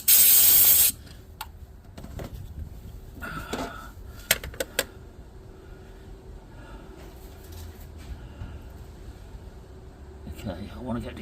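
Compressed air blasts hard through a nozzle into an exhaust stud hole on a Nissan Skyline R32 RB26 engine, a loud hiss of about a second, then quieter tool clicks and taps with a voice talking.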